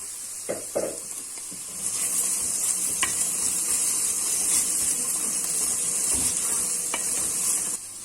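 A spoonful of tomato paste sizzles in a pan with sautéed onions, starting with a few clatters and then a loud, steady hiss that holds close and then stops abruptly.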